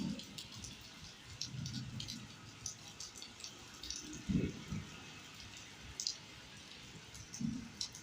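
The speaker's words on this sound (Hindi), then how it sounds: "बारिश की स्पीड देखें, बारिश बहुत ही शदीद हो रही है मेरे दोस्त।" Heavy rain falling during a storm in Lahore, a steady faint wash of noise with scattered drips and clicks and a few louder splashes, with no voices.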